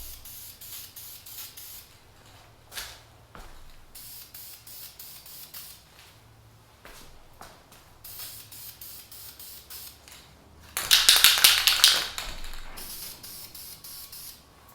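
Aerosol spray paint hissing onto a World War II military lantern, with a few quiet short bursts followed by one loud, close spray lasting about a second, surrounded by faint handling noises.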